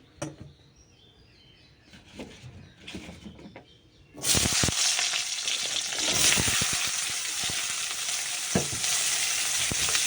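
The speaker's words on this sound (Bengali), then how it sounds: "তেল দেওয়া হয়ে গেছে তো পেঁয়াজটা দিয়ে দেবো আগে আমি" Chopped onion hits hot oil in a wok and sets off a sudden loud sizzle partway through. The frying hisses on steadily, with faint stirring clicks, after a quieter stretch.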